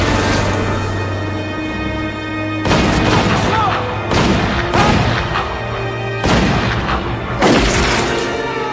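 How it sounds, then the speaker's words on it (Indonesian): Gunfire in a war film shootout scene, heavy booming bursts and crashing volleys arriving in waves over a dense, loud background of rumble and ongoing movie sound. "terjadilah tembak-menembak di antara mereka"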